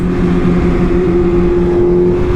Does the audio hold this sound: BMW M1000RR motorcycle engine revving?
yes